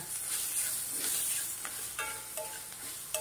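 Soaked chickpea curry with masala spices sizzles softly in a pan as a spoon stirs and scrapes through it, several light clinks and scrapes at close range over a steady low fry.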